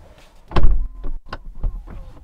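A Rolls-Royce Wraith Black Badge power door closes slowly, giving a soft motorised whir with a few muffled thunks and clicks, close by and without talk.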